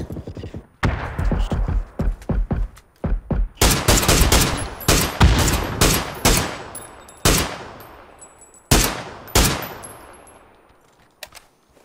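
Loud gunfire in a video game shooter: rapid automatic bursts and single shots come in clusters, each with a sharp attack and a short decaying tail, with brief pauses between volleys.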